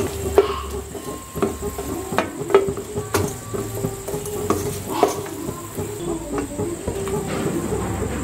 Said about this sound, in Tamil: கட்டி காயம் வந்து நல்லா பொரிச்சுக்கணும்.